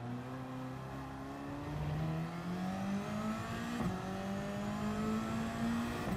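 A GT500 race car engine in a racing video game drones at high revs, pitch climbing steadily through a gear with a brief shift blip midway, loud and continuous with no talking.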